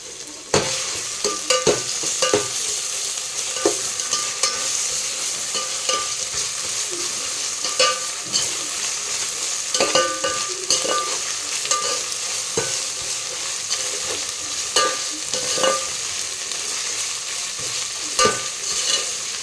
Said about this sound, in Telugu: అల్లం వెల్లిగడ్డ పేస్ట్ వేసుకుంటున్నా.